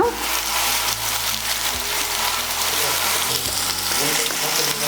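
Noodles tossed with fried egg stir-fry in a pan, making a loud, continuous sizzle with stirring clatter, while background music plays underneath.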